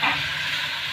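Sesame paste and tomato paste sizzle steadily in a hot pan while being sautéed for a tileswari bhindi masala, a close, even frying hiss with no voices.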